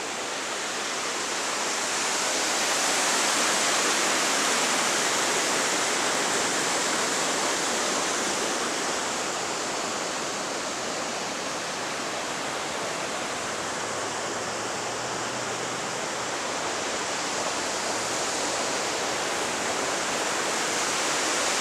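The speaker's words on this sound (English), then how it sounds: "You can see the large sluice gates here that control the water flow." Water rushes through large sluice gates at Rockford, Michigan, a steady, loud, broadband roar that continues unbroken with no voices.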